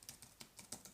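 Quick, faint keystrokes tap out a search term on a computer keyboard, about six light clicks in an even rhythm over a second, close but quiet, with no voices.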